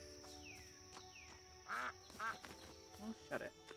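A goose in the video game EverDream Valley gives several short, harsh honks in quick bursts over steady background game music.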